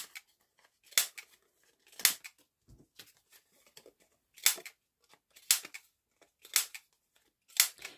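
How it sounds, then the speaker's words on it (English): A handheld corner rounder punching through card or paper stock, crisp sharp clacks repeating about once a second, close up and alone, with faint rustling of paper between punches. "I'm going to bring in my corner rounder and just round all the corners"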